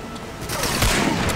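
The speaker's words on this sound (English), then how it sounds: "前方感觉有 MG42 的机枪点啊，要小心。" Sustained MG42 machine-gun fire from a World War II battle at Monte Cassino in Medal of Honor: Breakthrough, arriving as a dense, loud, continuous rattle through this short stretch of combat.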